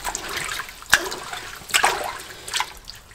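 Beans get washed in water, producing short splashing sloshes and trickles: one sharp splash, a second fuller surge of water, then a softer slosh, close and with no voices.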